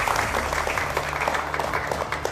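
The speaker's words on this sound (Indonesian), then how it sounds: "Luar biasa tepuk tangan" Studio audience of university students on a televised political talk show clapping in a brisk, even burst of applause, fairly close and filling the room, with little talk over it.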